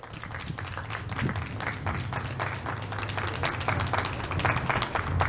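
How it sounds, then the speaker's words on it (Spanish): A live crowd applauds steadily for over five seconds after a singer's performance in Mexico, dense clapping spread across the audience with a faint sung or spoken voice beneath it. "Esos aplausos no son para mí"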